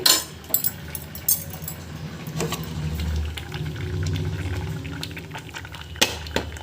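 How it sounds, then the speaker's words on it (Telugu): Hot tempering is poured into a pot of pongal, giving a soft bubbling, liquid rush amid a few sharp utensil clinks and knocks, close and without speech. "ఈ పోపుని వెత్తి పొంగల్లో వేసుకోవాలి"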